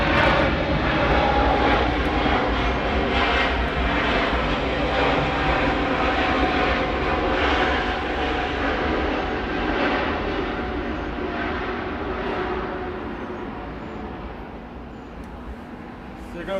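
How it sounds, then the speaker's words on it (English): An Airbus A321neo arrives at Atlanta, its engines a steady broadband rumble that fades slowly as it passes, with voices talking faintly underneath. "Got another A321neo arrival."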